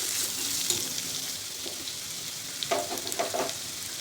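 Onion sizzles in hot oil with ginger and garlic, a steady close hiss of frying with a few light stirring clicks near the end; no one speaks.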